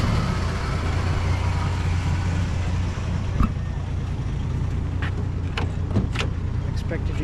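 A Dodge Dart's engine idles with a loud, steady low rumble inside the car, with a few brief clicks and knocks on top.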